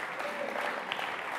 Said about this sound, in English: That's an odd comment to be applauding on